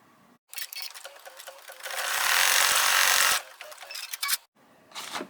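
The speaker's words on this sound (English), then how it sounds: "Now stitch the tree bucket tack down line." A sewing machine runs a tack-down stitch line on a tree bucket piece, with a few short starts followed by a steady, close whirring run of about a second and a half, then brief stops.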